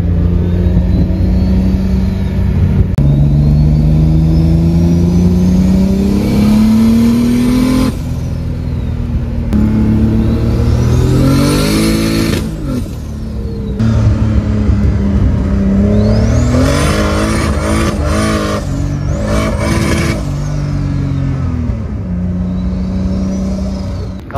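A BMW E30 fitted with a turbocharged M50 B20 engine laps a track on a driving day, its engine revving hard through rising and falling gear pulls, loud and close throughout with no talk.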